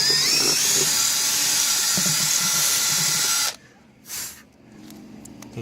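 An 11/64 drill bit bores a hole in aluminum with a high, steady whining drill sound for a few seconds, then cuts off, followed by a brief burst and quieter handling noises.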